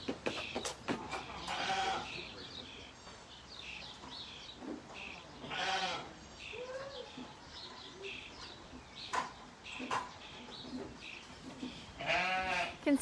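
Sheep bleat repeatedly at a shearing event, several wavering calls scattered across the stretch, some close and loud, with handling noises and bustle in between.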